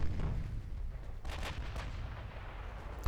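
Naval guns booming in a WWI-era dreadnought battle in Ultimate Admiral: Dreadnoughts, several heavy muffled shots with a dense low rumble running continuously beneath them.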